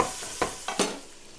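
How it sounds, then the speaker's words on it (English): Onion is dropped into a hot pan, with a few sharp stirring scrapes and clatters over a steady close sizzle. "Let me get my onion in here."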